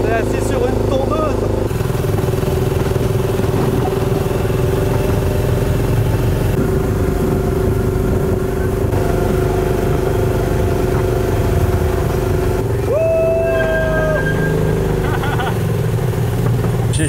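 A small motor of a slow toy-like amusement ride vehicle, like a lawnmower engine, drones continuously and loud close by, with a steady low hum and rattle, and a brief rising whine near the end; people chatter over it.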